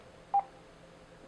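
Telephone time-announcement service signal: two short, clean electronic beeps about a second apart, each clear and fairly loud against a quiet line hiss.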